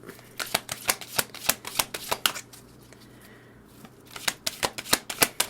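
Crystal tarot cards are shuffled in a quiet room, with a quick run of crisp, rhythmic flicking clicks, a short pause, then another burst, over a faint steady hum from a ceiling fan.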